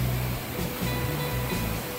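Heavy floodwater of the Krishna River roars and rushes continuously through Prakasam Barrage, a loud, churning surge pouring through an outlet.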